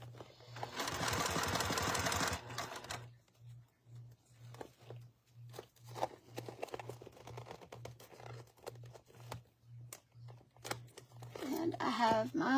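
A sewing machine stitches clear vinyl in a fast, dense burst of rapid needle strokes early on, then goes quiet. Later come scattered rustling and handling noises, with a voice talking nearby.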